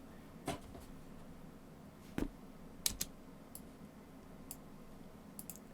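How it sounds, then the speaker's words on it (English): A computer keyboard is typed on in a few scattered, quiet clicks and short taps, close by in a calm room with no voices. "Let's just type in sand, actually."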